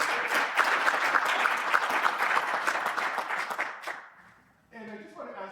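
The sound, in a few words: applause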